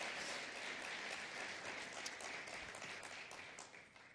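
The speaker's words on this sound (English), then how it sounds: "Yes, let's clap it up." A roomful of people at an African digital innovation competition event claps, a steady, fairly faint patter of many hands that gradually thins toward the end.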